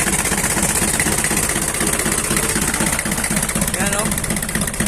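An old-model Mitsubishi 4D30 diesel engine idles close by with a steady, rough low throb and a mechanical clatter that runs unbroken for the whole stretch.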